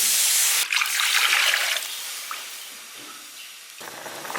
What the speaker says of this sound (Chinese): 再加点清水